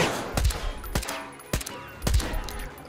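Gunfire from the player's weapon in Metro Exodus, four sharp shots spaced about half a second apart, each a loud near crack with a short echoing tail.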